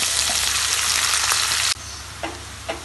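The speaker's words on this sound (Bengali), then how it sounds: "দিয়ে পেঁয়াজগুলো আমি হালকা ভেজে নেব" Chopped onions frying in hot oil in a pan, a loud continuous hiss that drops abruptly to a softer sizzle, followed by a couple of brief stirring scrapes.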